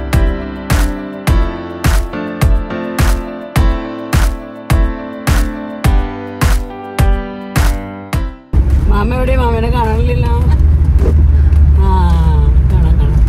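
A car on the road, heard from inside as a steady, loud low rumble that fills the second half, with people talking over it; before that comes a run of evenly spaced, ringing tonal beats.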